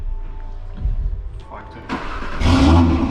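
A tuned 2020 Audi RS3 running 99-octane fuel with its OPF removed, its engine rising into a loud, close rev near the end after a low idle, with people talking over it.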